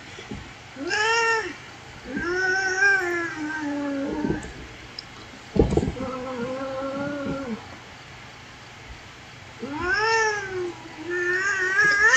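Angry cat in the horror game Phasmophobia lets out a series of loud, drawn-out wailing meows and yowls, several separate cries spaced across the stretch with a sharp burst near the middle.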